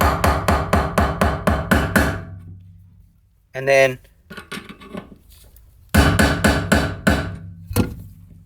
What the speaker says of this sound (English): So you put your screwdriver here, and then you just want to hit it, and the whole